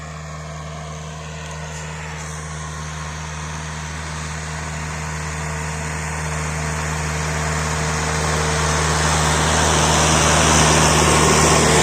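A DT-75 tractor engine pulling a plough runs steadily close by, its deep, even hum with a high whine on top, growing slightly louder toward the end.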